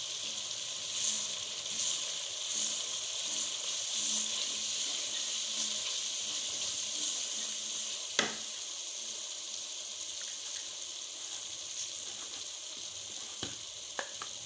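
Black pepper powder and coriander powder fry in a pan for dhaba-style aloo palak, giving a steady close sizzle with faint stirring and a few sharp clinks of a utensil against the pan.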